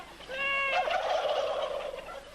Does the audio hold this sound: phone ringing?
no